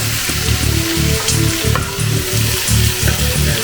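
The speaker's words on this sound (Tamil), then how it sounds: "இப்போ நம்ம சிக்கன் ஃப்ரை பண்ணுறதுக்காக போட போகிறோம்" Chicken frying with softened onion, tomato and masala, a loud close sizzle pulsing in a regular rhythm of about two scraping stirs per second, with no voices.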